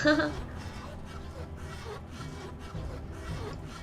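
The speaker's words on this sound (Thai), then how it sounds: "มา เลื่อยเสร็จก่อน" Sawing in the war survival game This War of Mine: rhythmic, moderately quiet rasping saw strokes on wood repeat steadily, with voices over them.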